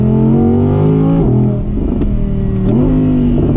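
An Audi R8 Spyder V10 Performance engine revs hard and accelerates, heard through the open rear window, a loud steady growl whose pitch climbs and drops through quick gear shifts.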